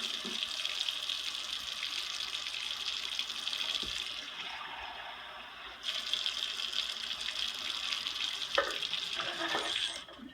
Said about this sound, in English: Now we need another half a cup of water, warm water.